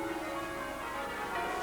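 The ten-bell tower of St Philip's church in Sydney, Australia, where the first peal in the Antipodes was rung, sounds a steady wash of ringing bells with dense overlapping tones.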